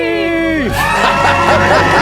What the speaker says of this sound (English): Let's hear a debt-free scream